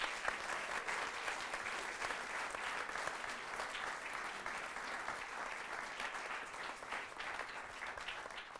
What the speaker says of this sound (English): please join me in giving a rapturous round of applause for everybody who makes these things happen